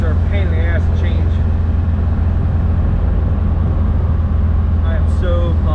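A Porsche 914 drives with a loud, steady low engine drone filling the cabin while someone talks over it.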